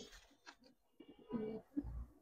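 Pangkhi silver pigeons give a few soft, low throaty coos close by in a quiet space, with short pauses between the calls.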